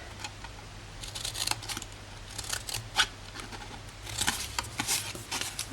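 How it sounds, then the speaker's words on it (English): Scissors cut up the corners of a paper gift bag box, producing a quick run of crisp snips and rustles that come close and fairly loud over a steady low hum. "So we're just going to cut up on each of the corners, just like this."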